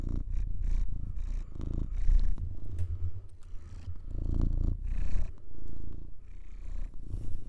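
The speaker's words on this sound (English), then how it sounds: "You guys hear him purring? He's got like one of the loudest purrs of all time." A pet cat purrs loudly and close, a rumbling rhythmic purr in repeated breaths that swell and fade, with no talking.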